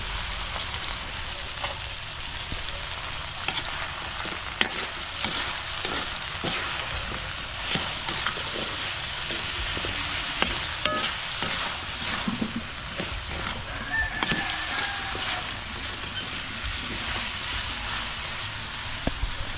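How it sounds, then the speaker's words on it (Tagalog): Boiled cassava being stirred into frog adobo in a sizzling pan, a steady crackling fry with repeated utensil scrapes and taps against the pan over about twenty seconds, no talk. "So bago natin timplahan, lagay natin yung kamoting kahoy."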